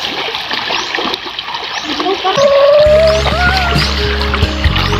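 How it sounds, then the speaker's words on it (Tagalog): A carpet is washed by hand in water, sloshed and swished back and forth with repeated close splashing and dripping. Voices and other background noise sound underneath. "So ganyan maglaba ng carpet guys, pina-style-style mo pa guys, o pinaalon-alon mo pa yan sa tubigan guys."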